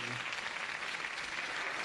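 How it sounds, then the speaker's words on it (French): Audience applause for a magician at a comedy stage show, a steady dense wash of clapping filling the short moment with no talk over it. "On applaudit Oudin le magicien"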